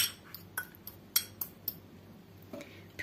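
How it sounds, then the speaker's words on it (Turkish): A fork taps and scrapes against a dish while mashing apricot into a purée, a series of light irregular clicks and clinks, close and fairly quiet. "Kayısı isterseniz elinizle isterseniz çatal yardımıyla püre haline getireceğim."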